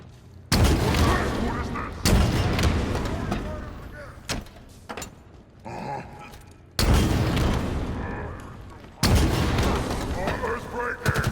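Rocket launcher blasts in Halo Infinite's The Tower mission, heavy booming explosions landing in bursts several seconds apart, loud and close over game ambience and scattered gunfire, with some voice between them.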